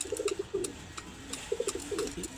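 A bird cooing in two short bursts of soft, repeated low notes, close by, with faint background noise between them.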